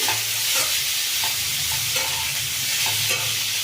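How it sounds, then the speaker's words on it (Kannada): Ivy gourd pieces fry in hot oil in a pan, giving a steady, close, loud sizzle with soft stirring scrapes and no talk. "ಇದರಲ್ಲ ಒಂದೆರಡು ನಿಮಿಷ ತೊಂಡೆಕಾಯಿ ಫ್ರೈ ಆಗಲಿ"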